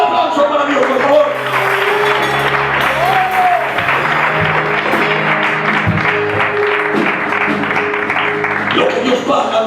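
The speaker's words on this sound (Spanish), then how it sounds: "Un aplauso para Dios, por favor." A church congregation applauds at length during a sermon, a loud, continuous wash of clapping with a voice and sustained musical tones running beneath it.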